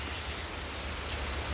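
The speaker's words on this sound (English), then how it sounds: "It's starting to rain." Steady rain falling in a garden in Costa Rica, a dense even hiss of drops on leaves and surfaces with no voices.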